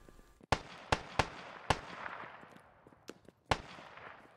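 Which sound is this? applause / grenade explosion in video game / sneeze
grenade explosion in video game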